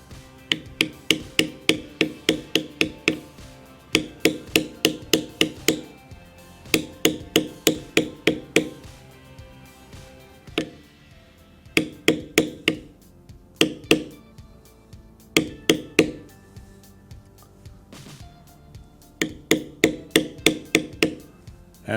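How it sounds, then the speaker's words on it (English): Leather being stamped with a mallet while a dragon design is carved, crisp repeated knocks in quick groups of five to eight strikes separated by short pauses, close and clear, with no talking. "I will stamp a little deeper."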